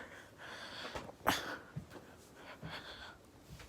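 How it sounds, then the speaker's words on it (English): A single sharp sneeze from a person allergic to cats, quiet and close at home, followed by a few soft breaths and sniffs. "I sneeze when I come around."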